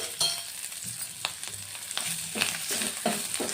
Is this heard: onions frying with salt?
yes